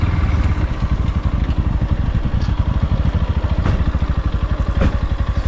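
A motorcycle engine putters close by as bikes are being parked near an entrance. It gives a steady, rapid rhythmic idle pulse with faint clatter and no talking.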